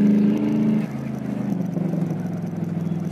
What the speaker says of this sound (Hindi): आप देख सकते हैं हल्का सा रेस देते ही कैसे कार उठती है एकदम।